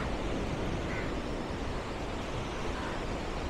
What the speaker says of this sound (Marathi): फक्त समुद्राच्या लाटांचा आवाज आणि आपण